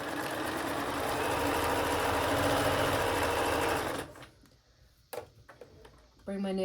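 A sewing machine stitches a marionette robe with a steady, loud whirring run for about four seconds, then stops, leaving brief clicks and a short renewed burst at the end.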